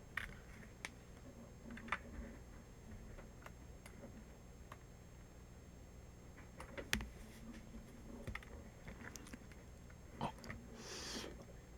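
Faint, irregular plastic clicks from a scroll wheel, scattered ticks in a quiet room with light background hiss.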